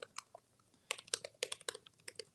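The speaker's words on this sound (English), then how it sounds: "Sorry for the typing noises." Typing on a computer keyboard: quick, irregular bursts of crisp key clicks, close and fairly quiet, with brief pauses between runs and no voices.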